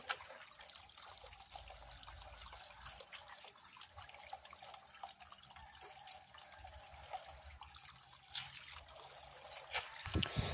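Peeled cassava roots being washed by hand in water, with a steady close trickling, splashing and dripping that runs on for the whole stretch.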